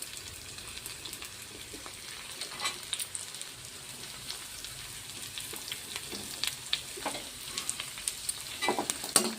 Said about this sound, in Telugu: నేను కట్ చేసి పెట్టుకున్న కూరగాయలు కూడా అన్నీ ఒక్కొక్కటిగా వేసుకుంటున్నా.